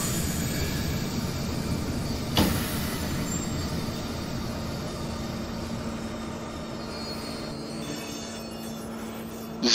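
A train in the Train Sim World game, a crane train setup, rolls slowly onto the track with a steady low rumble and a faint wheel squeal, smooth and continuous, with a short clank partway through.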